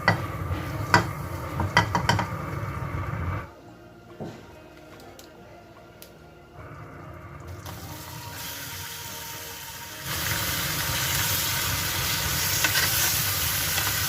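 Chicken pieces with a little salt fry in a wok, starting with clattering stirring and then settling into a steady, loud sizzle and hiss for the last few seconds.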